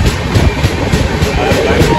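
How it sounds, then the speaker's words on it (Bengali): The Jammu Tawi Express pulls into Durgapur station with a loud, continuous rumble and a steady rhythmic clatter of wheels over the rails. "ট্রেন দুর্গাপুর ঢুকছে"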